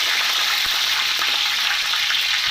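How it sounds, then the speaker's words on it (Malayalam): Curry leaves crackle and sizzle loudly in hot coconut oil with spluttering mustard seeds, a continuous bright frying hiss with sharp pops, close up and with no talking. "കടുക് പൊട്ടിയാൽ നമുക്ക് കറിവേപ്പില ഇട്ട് കൊടുക്കാം."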